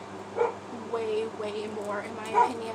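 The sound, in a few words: dogs barking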